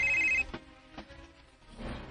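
A cellphone rings with a brief electronic tone at the start, cutting off after under half a second, followed by faint soft knocks and low background rumble.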